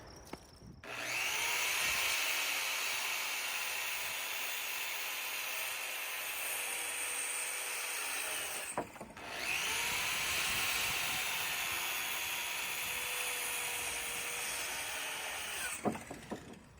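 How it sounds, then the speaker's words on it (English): A 15 amp circular saw, run off a portable power station, rips through wood in two long, steady, loud cuts, each starting and winding down abruptly, with a brief pause between them. "Man, that powerhouse runs this circular saw like it's nothing"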